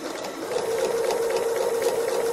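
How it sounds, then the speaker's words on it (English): Sewing machine stitching free motion embroidery on a cow design, a steady close whirring hum with a fast needle rhythm, continuous and without talk. "if you start stitching on the left hand side, you're going to hit the arm of the machine"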